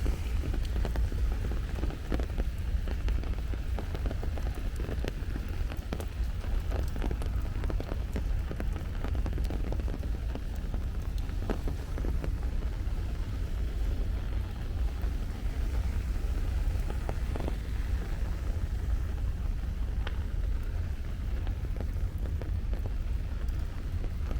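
Steady rain falls throughout a walk around the perimeter of Astoria Park in Queens, New York, a continuous hiss of drops on pavement and surfaces with faint traffic rumble beneath and no voices.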